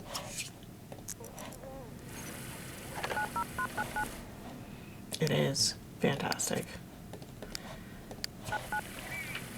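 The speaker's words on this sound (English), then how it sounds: "I am going to have her see if the phone's working." Short beeping telephone keypad tones in The Sims video game come in two brief clusters, each a quick run of evenly spaced beeps, while a person talks.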